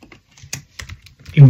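Computer keyboard typed in short, uneven bursts of close, crisp key clicks while someone speaks between and over the keystrokes.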